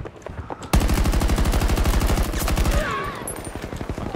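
A modified weapon in Battlefield 2042 fires a loud, rapid, steady automatic burst lasting about two seconds, followed by quieter scattered shots and game ambience.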